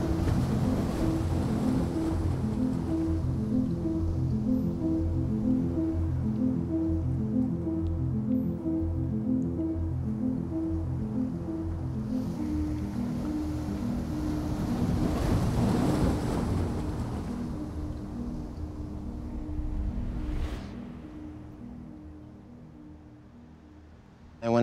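Ocean waves and coastal wind at St. Ives make a loud, steady roar with continuous surf and gusting wind noise. A layered drone runs beneath it, and the roar eases and grows fainter toward the end.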